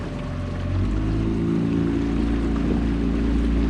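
Boat motor droning steadily while cruising on the water during a sightseeing boat ride, a loud continuous low hum with wash and wind, no talk.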